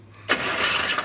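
A Buick Wildcat engine, left sitting for 21 years, cranks and catches abruptly, then settles into a loud, steady, broadband roar that runs on close by without any talk.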